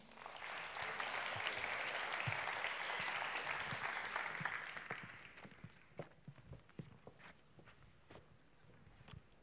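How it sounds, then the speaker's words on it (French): Applause from an audience welcoming a speaker to a talk, fairly faint, dense clapping for about five seconds that thins into a few scattered claps as it fades out. "je vous demande d'applaudir"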